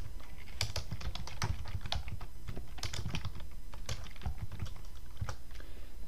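Rapid typing on a computer keyboard as a command is entered for a DCSync attack in mimikatz, with quick irregular clacking keystrokes, close and steady, and no talking.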